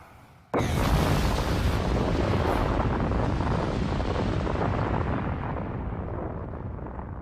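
A massive anime explosion destroys a castle, bursting in suddenly and loudly, then holding as a long, dense roaring rumble that slowly fades, with no voices.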